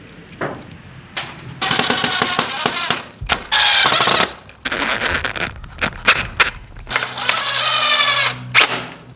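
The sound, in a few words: power drill screwing down scrap roofing material on a chicken coop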